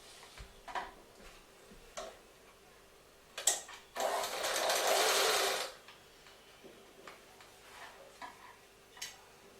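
A sewing machine stitches the folded canvas edge of a gathered chudidhar in a single steady run of about two seconds, set among light clicks and handling noises.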